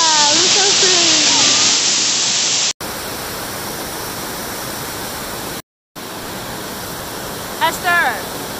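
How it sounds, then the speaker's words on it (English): A waterfall pours with a loud, continuous broadband rush. Excited voices talk over it at the start and again briefly near the end. "Look at the waterfall!"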